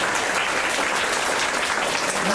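An audience at a school retirement felicitation for a teacher applauds. The clapping forms a dense, continuous wash that stays loud and even throughout, with no talk above it.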